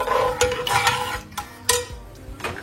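A utensil scrapes and knocks through a fish curry with coconut milk in a pan. The close, uneven strokes come in short bursts over a low simmer.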